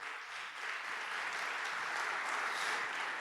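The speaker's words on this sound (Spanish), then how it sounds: "Dele palmas al Señor por eso." A church congregation applauding, a dense, even wash of many hands clapping that swells slightly and holds steady, heard from within the crowd.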